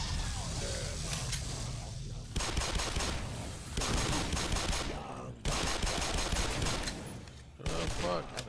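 Rapid automatic gunfire rattles in bursts in the Black Mesa shooter game, loud and close, broken by short pauses, while a player talks over the shooting.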